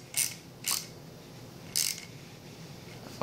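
Small wrench snugging the barbs on an Autococker paintball marker during reassembly: three quick, close metallic ratcheting clicks spaced apart, with quiet pauses between.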